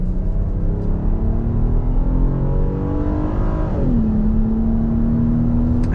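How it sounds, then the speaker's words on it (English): A 2022 Kia Carnival SX minivan accelerates on throttle, the engine drone climbing steadily in pitch, then dipping after a gear change and climbing again, heard from inside the cabin with constant road noise. "let's go ahead and get on throttle again"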